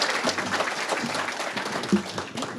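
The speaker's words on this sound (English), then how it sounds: "Give her a round of applause" Moderate, slightly distant applause from an awards luncheon audience for an award recipient, a steady wash of clapping with scattered individual claps.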